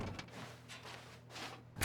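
A door opens in The Stanley Parable video game, a soft low rumble of movement ending in a short sharp knock or latch sound, with no talk.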